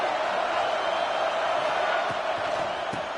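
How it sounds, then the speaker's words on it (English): Stadium crowd at an Arkansas college football game, a dense, steady roar of many voices holding loud and constant throughout, with occasional louder shouts rising above it. "This crowd ready to make its presence known."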